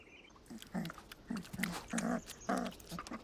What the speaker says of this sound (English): She regurgitates the meat she stole from the bears. And the pups attack it.